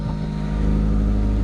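Idling exhaust of a 5-speed Honda car, a steady low rumble held close by, thin and weak in tone, with no voices over it.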